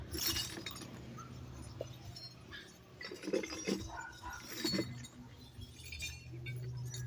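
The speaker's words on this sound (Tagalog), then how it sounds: "Ang puro bote po yan, mga pinagbotehan ng soft drinks." Empty glass soft drink bottles clink and knock against each other in irregular bursts as they are picked out and sorted into sacks, a few sharp chinks standing out over low background noise.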